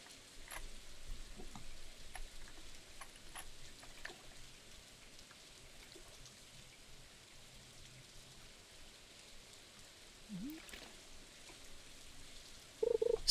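Light rain patters steadily on a rainy fishing day, a soft continuous hiss with scattered drop ticks, fairly faint and without voices, ending in a brief louder knock.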